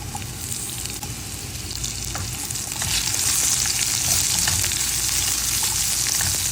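Carrots frying in a pan make a close, steady sizzle that grows louder partway through, with light stirring underneath and no speech.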